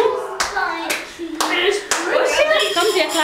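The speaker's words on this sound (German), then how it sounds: "kommen wir klatschen?" Several people clap their hands at a child's birthday party, a few sharp uneven bursts mixed with talking and children's voices close by.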